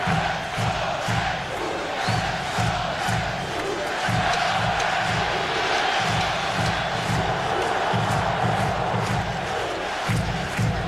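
Sellout baseball crowd roaring at Shea Stadium during a Mets playoff game against St. Louis, a dense, steady wall of cheering and shouting that holds throughout with pulsing rhythmic chanting or stomping underneath.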